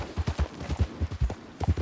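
Horse hooves clip-clopping in the open-world video game Red Dead Redemption 2, a steady rhythmic trot of close, fairly loud footfalls with no talk over them.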